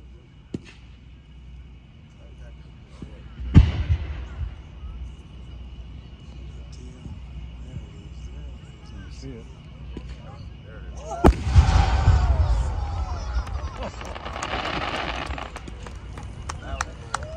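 A 12-inch chrysanthemum firework shell bursts at a pyrotechnics convention showcase, a sharp launch thump followed later by a loud booming break and crackling rumble, with an announcer's voice talking over the display.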